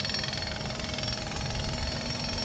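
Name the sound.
jackhammers operating nearby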